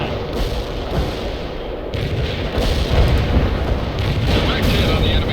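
Enemy gunfire and explosions rage in the real-time strategy game World in Conflict, with dense rumbling booms and crackling shots rolling continuously and building louder toward the end, no speech heard.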